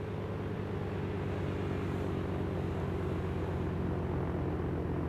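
A steady, droning rumble of an airplane engine in the DayZ mod for Arma 2 holds constant throughout, fairly quiet and continuous with no voices.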